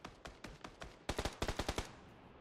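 Rapid rifle gunfire from a Mini 14 in PUBG on console, several sharp bursts of evenly spaced shots, a sparser run followed by two tighter, louder volleys, close and alone.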